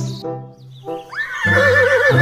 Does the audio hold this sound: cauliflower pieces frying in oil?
no